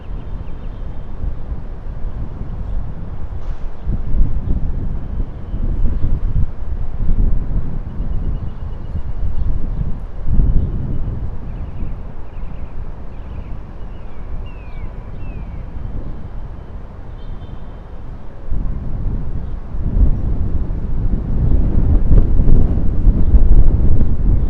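Strong wind buffets a microphone high above the Upper West Side of Manhattan in New York City, a steady roaring rush with louder gusts swelling throughout and rising near the end.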